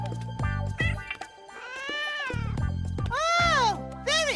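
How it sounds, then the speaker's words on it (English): A cat meows repeatedly outdoors in a yard, with several drawn-out, rising and falling cries that come through loud and close, broken by short pauses. "That kitty sounds like it might be hungry."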